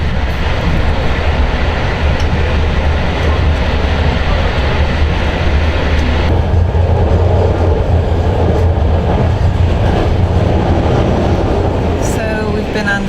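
Steady rumble of a passenger train riding the rails on a journey out of Poprad, a loud continuous low roar with rattling wagon noise and no breaks over the whole stretch.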